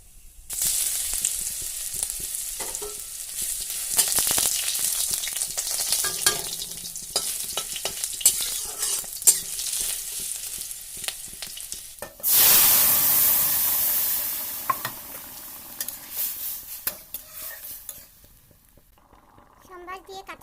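Hot tempering sizzles loudly while boiled dal and peas are cooked, with a strong steady hiss and frying crackle, and a sharp burst of louder sizzling partway through.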